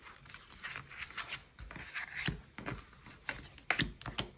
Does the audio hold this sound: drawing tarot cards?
yes